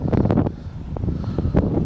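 Gusty wind buffets the microphone in uneven low rumbling bursts, with no talking, by the water at Indian River.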